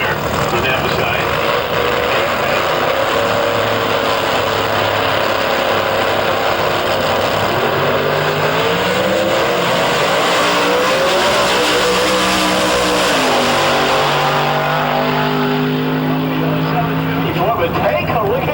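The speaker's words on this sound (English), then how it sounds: "it's Doug Hesch in a beautiful 94 Camaro" A 1994 Camaro drag racing at the IHRA Rocky Mountain Nationals, with loud, sustained engine roar and rising revs filling the whole stretch while an announcer talks over it.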